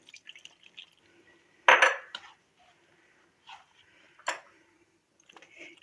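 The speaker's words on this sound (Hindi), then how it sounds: "इस तरह हम पानी इसमें शामिल करेंगे।" Water being added to a yogurt and semolina dough, with a couple of short splashy pours and small wet clicks and drips against a bowl, close by and intermittent in a quiet kitchen.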